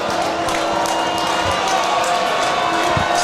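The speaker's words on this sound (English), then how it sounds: "it is loud here at Michie Stadium as the homecoming crowd is bringing it" Loud homecoming crowd roaring at Michie Stadium during an Army versus Temple football game, a dense, continuous wall of crowd noise with scattered thumps and shouts.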